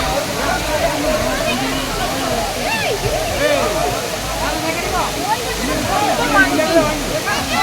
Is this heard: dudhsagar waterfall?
yes